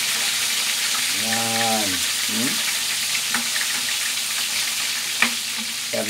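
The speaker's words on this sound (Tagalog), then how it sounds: "Ang pagprito." Chicken drumsticks fry in hot oil, giving a loud, steady sizzling hiss throughout. A voice speaks briefly over it, and a few sharp pops and clinks break through.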